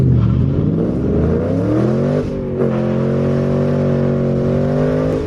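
A cammed Ford Mustang GT V8 pulls hard from idle on a 0-60 run, a loud, steady engine roar rising in pitch with a brief dip at a gear shift before climbing again, close and continuous throughout.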